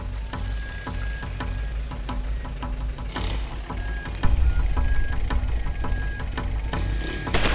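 A motorcycle engine idles and rumbles close by, its pitch swelling as the bikes roll in, with a steady mechanical throb throughout.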